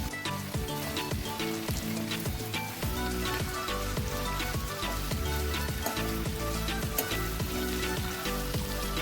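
Onion, tomato, ginger, green chili and garlic sizzling in an oil-filled kadai for kadai paneer, a steady, loud, dense crackle of frying with sharp spatters popping throughout, no voices.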